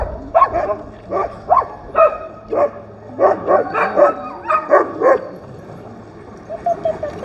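Excited sled dogs at Denali National Park bark and yip in short bursts close by, a run of sharp barks fading into softer whines and yelps toward the end, with no talking.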